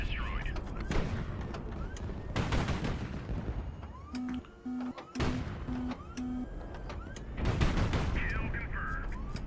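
Quad double-barreled 100mm naval guns firing in the video game Highfleet, a series of loud, booming multi-round volleys spread across the clip, mixed with game effects and short electronic beeps.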